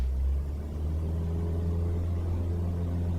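Light aircraft piston engine throttled up for a go-around during circuit practice, a loud, steady low droning roar that swells slightly at the start and then holds constant, close and alone with no voices.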